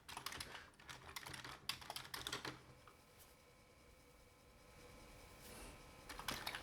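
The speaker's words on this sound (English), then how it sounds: "type load asterisk comma 8 comma 1" Typing a load command on a computer keyboard for a Commodore 1541-II disk drive setup, a quick run of clicky keystrokes at the start, then a faint hum and a few more keys at the end.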